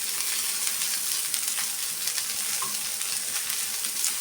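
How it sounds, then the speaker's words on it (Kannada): Cloves, a bit of cinnamon and onion fry in a pan for a mutton sambar masala, giving a loud, dense, continuous sizzle heard close up with no talking. "ಎಲ್ಲ 1 ನಿಮಿಷ ಫ್ರೈ ಮಾಡಿಕೊಂಡ್ರೆ ಆಯಿತು"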